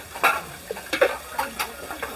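Food is stirred and fried in a pan, heard as a few short, close scraping and sizzling strokes spaced irregularly, each rising briefly over a quiet kitchen background.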